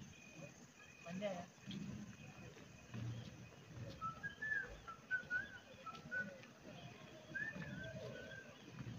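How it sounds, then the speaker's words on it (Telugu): A man gives several short, rising whistles in the evening at Lake Front Park on Hussain Sagar, Hyderabad. The whistles are moderately close and sit over steady crowd chatter and background noise. "బాబాయ్ విజిల్ వేస్తున్నాడు"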